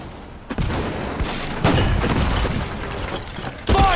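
Gunfire and explosions in the World War Heroes video game: loud bursts and booms crowd together with clattering impacts, close and dense throughout, ending with a sharp blast.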